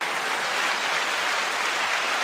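Steady, dense applause fills the short stretch at constant loudness, a broad wash of clapping with no voices on top.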